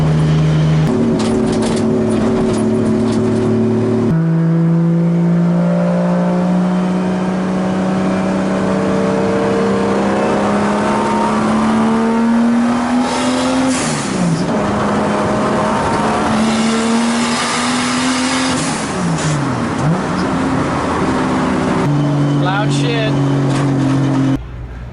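A 2JZ-swapped 240SX drift car revs on the street, its engine loud and close with rising and falling pitch sweeps, brief clutch kicks and a strained tire edge; a person talks over the engine noise.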